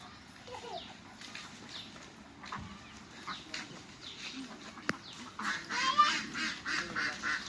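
Ducks quacking and honking at close range, irregular calls that grow louder toward the end, with faint voices in the background.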